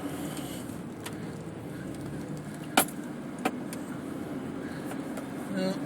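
Keys jangle in a moving car, brief metallic clinks and rattles rising above the low steady road and engine hum.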